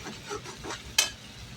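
Masala being sautéed in a pan for hotel-style shahi paneer gives soft rasping scrapes of a spoon stirring, with one sharper clack near the middle, faint and close with no voices.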